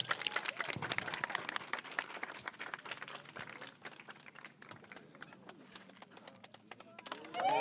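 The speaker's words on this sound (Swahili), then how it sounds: "Wapi makofi tafadhali." Audience applause at a school bus handover ceremony for St. Thomas Girls, a steady crowd clapping that swells early, thins through the middle and rises again at the end, with voices mixed in.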